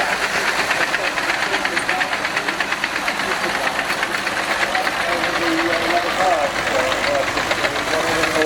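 A vintage metal-wheel tractor in a tractor parade at the Weald and Downland Museum runs with a steady, rhythmic chugging throughout, close and continuous, with voices faintly beneath it.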